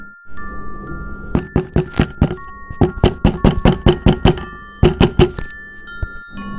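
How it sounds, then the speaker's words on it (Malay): Repeated sharp knocks come from inside a wardrobe in a boarding school dormitory, quick bursts of hollow raps in uneven clusters, close and loud over a faint steady tone. "mereka mendengar ketukan bertalu-talu dari dalam"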